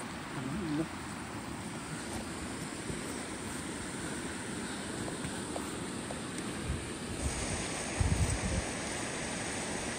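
Steady broadband rush of rainwater flowing down a waterfall at Harishchandragad, a constant wash with a brief thump near the end.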